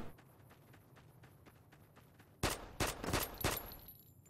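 Quick, even running footsteps patter in a video game for a couple of seconds, then several loud bursts of rapid gunfire break out close by, cut with short gaps between volleys.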